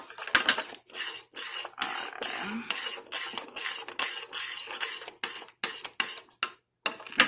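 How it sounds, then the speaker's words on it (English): A spoon stirs coconut cream in a pot for Jamaican cornmeal porridge, giving close, repeated scraping and rasping strokes in an irregular rhythm with brief pauses between them. "I'm stirring the coconut cream"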